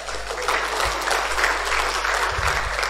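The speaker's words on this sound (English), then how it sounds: "need a big round of applause" A home group gathering gives a big round of applause, steady even clapping from a modest crowd with a low hum underneath.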